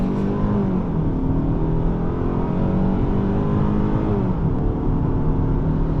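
A 2024 Hyundai Sonata SEL accelerates hard through a quarter-mile run, its engine droning loud and steady from inside the cabin with rising tone, wind and road noise, and no talking.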